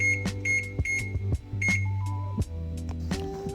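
A kitchen timer is set for bread dough to rise, giving a run of short sharp beeps, some clustered in quick pairs, over a steady low hum nearby.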